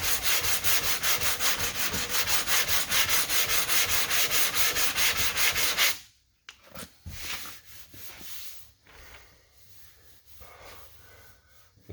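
A sanding block works Bondo along a car body line in quick, even back-and-forth strokes for several seconds, then shifts to slower, quieter, irregular rubbing passes.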